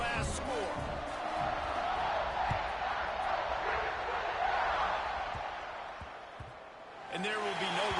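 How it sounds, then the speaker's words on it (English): A football stadium crowd at an OSU–USC game hums and roars after a score, a broad sustained murmur with scattered shouts, swelling and then dipping near the end. "this crowd is buzzing after that last score"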